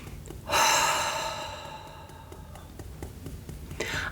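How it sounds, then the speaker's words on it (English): A single deep breath, drawn in sharply and then let slowly out, sounds close and alone during a calm tapping relaxation exercise. "Big breath in and out."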